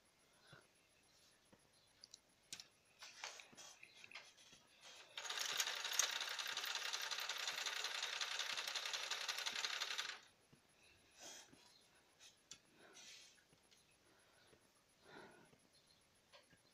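A household sewing machine hemming the edge of a pillow slip cover, recently oiled and running rough, whirs in one steady, moderately loud burst of about five seconds, with faint handling clicks and rustles before and after.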